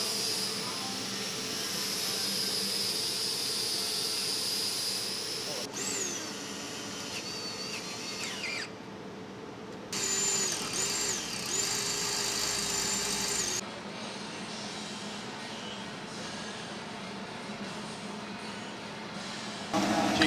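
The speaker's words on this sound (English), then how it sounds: "And he's just gonna drill into the crank." A power drill whines and grinds into an engine crankshaft in bursts, with pitch shifts and brief stops, amid a busy workshop hum; no clear speech.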